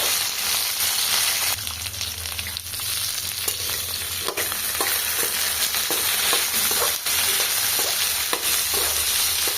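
Ivy gourd, green chillies, tamarind, coriander and tomato for chutney being stirred in a hot pan, loud continuous sizzling with irregular spatula scrapes and taps on top, no voices.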